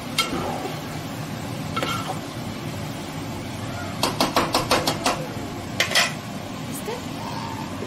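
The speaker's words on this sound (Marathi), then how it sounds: "त्याला आता मस्तपैकी मिक्स करून घ्यायचं आपल्याला" A spoon stirring prawn and fresh cashew curry in a metal pot, a run of sharp clinks and scrapes against the pot in quick succession near the middle of the clip, set against a steady background hum.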